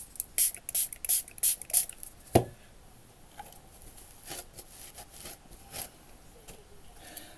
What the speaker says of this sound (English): And that I shall colour in with the sprays in a moment.